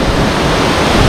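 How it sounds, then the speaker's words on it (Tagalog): A waterfall pours in a loud, dense, continuous roar close by, unbroken for the whole moment with no voices over it. "we're here at the falls"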